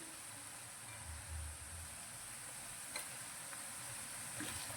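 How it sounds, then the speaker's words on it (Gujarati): Chopped ginger, green chilies and garlic sizzle steadily with onions in a hot pan, a continuous close frying hiss with faint stirring scrapes and no talking. "તેને પણ આપણે ડુંગળીની સાથે સાંતળીશું"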